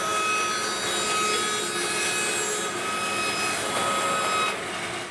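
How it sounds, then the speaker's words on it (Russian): A power saw rips glued wooden panels into 30 mm strips, a steady loud whining cut with a rough grinding edge that runs without a break, then eases slightly at the end. "Сейчас делаю второй дополнительный распил, пилить буду также по 30 мм."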